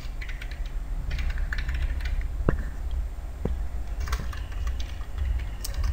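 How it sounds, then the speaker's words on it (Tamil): Quick, irregular clicks of typing on a computer keyboard land close by as keys are tapped in short runs over a constant low background hum, with no talking. "லாகினில் நீங்கள் எந்த மொபைல் நம்பர் கொடுத்து க்ரியேட் பண்ணியிருக்கீங்களோ அந்த மொபைல் நம்பர் டைப் பண்ணிவிடுங்க."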